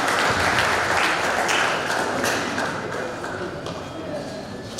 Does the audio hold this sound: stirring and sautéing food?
no